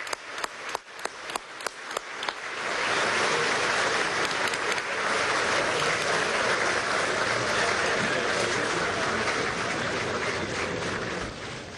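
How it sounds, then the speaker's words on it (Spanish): Applause at a Venezuelan oil-industry event with President Maduro: a few sharp separate claps open it, then it swells into sustained, dense clapping from a large crowd that holds steady to the end. "un aplauso, camarada Chaparro"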